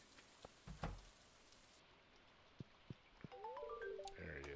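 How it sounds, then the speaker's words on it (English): Rain patters on a metal trailer roof in the Stardew Valley video game, a faint, sparse tapping of separate drops under a few soft game chimes and blips. "Raindrops are really loud on the metal roof of our trailer."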